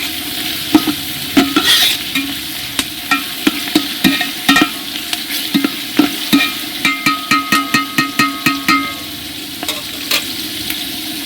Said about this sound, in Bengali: হাড়ির মধ্যে এখন মাংস ভালো করে কষানো হচ্ছে